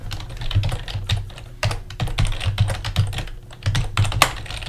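Rapid keystrokes on a computer keyboard while coding in an app, a close, loud, busy run of clacks with brief pauses and no talking.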